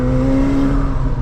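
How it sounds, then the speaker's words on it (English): A 2024 McLaren 750S Spider sports exhaust drones with a steady, loud engine tone from inside the open-roofed car while driving. It holds a constant pitch at cruising revs with a low rumble underneath and no voices. "you can hear the exhaust so much better now with that rear window dropped"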